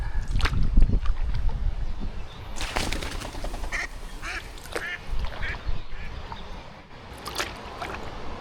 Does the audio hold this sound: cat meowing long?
no